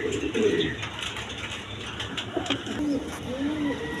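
A pair of racer pigeons coo nearby in low, throaty, repeated calls that carry on through the moment with little else around them.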